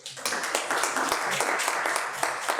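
A crowd applauds steadily, with dense clapping throughout, fairly loud and close.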